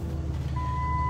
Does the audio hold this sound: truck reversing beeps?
yes